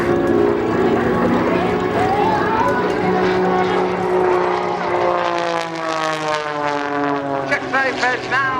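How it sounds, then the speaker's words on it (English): An MXS aerobatic plane rolls at the Houston Air Show, its loud propeller engine droning and shifting pitch as it sweeps past close by, while an announcer talks over it. "As he works back in on the 45 towards air show center, he'll roll the aircraft."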